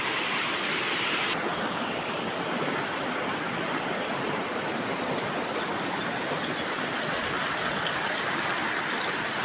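Flowing water at a crab-catching spot, a steady, loud rushing wash like a small stream or weir pouring without pause, close to the listener, with no voices over it.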